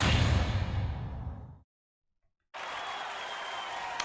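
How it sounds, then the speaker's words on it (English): Courtroom crowd applause from The Great Ace Attorney video game at a not-guilty verdict: a loud burst of clapping that cuts to silence for about a second, then resumes as steady, dense clapping. "People clap."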